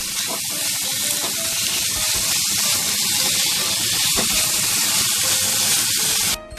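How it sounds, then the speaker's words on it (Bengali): Chicken pieces sizzling and spattering in hot oil in a pan for a chicken roll, a steady, loud hiss with crackling pops throughout that cuts off at the end. "এটাকে আমি ভেজে নেবো।"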